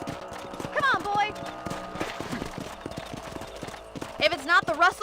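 Rhythmic clip-clop of galloping horse hooves in the video game Red Dead Redemption, continuous and close, with a voice speaking over them at intervals.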